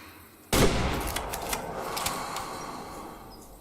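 A rifle shot fired at a hippo in the hunting game Way of the Hunter 2: one sharp, loud crack, then a long rolling echo that slowly fades, with no talking.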